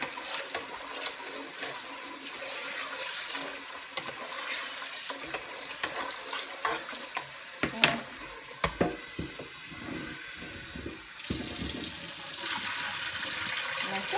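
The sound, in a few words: rinsing rice in warm water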